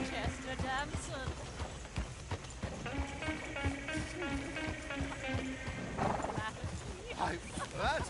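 Hooves of a horse-drawn coach clip-clop steadily in the video game Red Dead Redemption 2, with a horse neighing and whinnying, under a conversation between people and a musical score.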